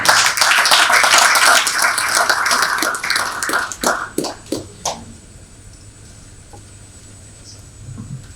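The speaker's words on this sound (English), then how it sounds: "With a big round of applause." Conference attendees give the chairman of the Equipment Leasing Registration Authority a round of applause, dense clapping for about three seconds that thins into a few scattered, distinct claps and fades to near quiet.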